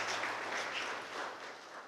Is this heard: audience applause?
yes